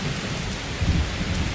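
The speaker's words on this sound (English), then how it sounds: "You're going to have to speak up over this rain." Steady rain pours down with low rumbles of thunder rolling underneath in a video game, a dense, continuous wash of sound with no voices.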